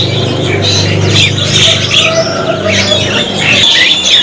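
Bali dakun birds chirp at a bird market kiosk, their short high calls and squawks overlapping in a steady, loud busy chatter close by throughout.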